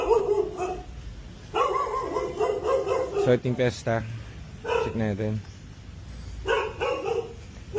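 A dog barks several times in short bursts amid people talking nearby, the barks loud and close, scattered across the clip.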